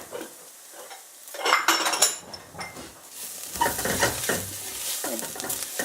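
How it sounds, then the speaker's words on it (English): Browned onions are scooped and scraped out of a frying pan while making red lentil biryani, with clinking utensil scrapes and stirring over a low, steady sizzle, close and moderately loud. "I'm just going to take half the onions out"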